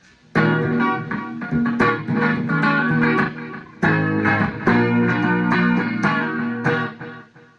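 A Cordovesz HSS Strat-style electric guitar played clean through its bridge humbucker with tone fully up, strumming bright ringing chords in bursts with short gaps, close and loud, trailing off at the end.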